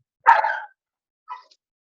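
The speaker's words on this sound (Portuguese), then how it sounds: "quem está com cachorro em casa, desliga o microfone, por favor" A dog barks in a home over an open microphone during an online session, one loud close bark followed by a shorter, softer second bark.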